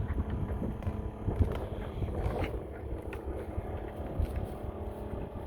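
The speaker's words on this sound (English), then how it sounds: "it's breezy, as you can tell" Breezy wind buffets the microphone outdoors on an overcast, sunny day, a steady low rumble with gusty swells throughout.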